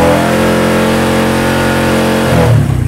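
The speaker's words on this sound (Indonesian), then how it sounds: "Dan saat ini saya akan mencoba di gas tinggi." A motorcycle engine with a diode fitted to its regulator/rectifier, held steadily at high throttle, a loud, sustained even drone that drops and sputters near the end as the revs fall.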